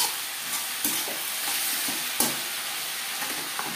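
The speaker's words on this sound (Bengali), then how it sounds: "3-4 মিনিট হালকা করে পেঁয়াজ ভেজে নেওয়ার পর দিয়ে দেবো ম্যারিনেট করে রাখা মাংস" Marinated chicken is stirred into lightly fried onions in a hot pan, giving a steady, fairly loud sizzle broken by a handful of sharp scrapes and knocks from the utensil, with no talking.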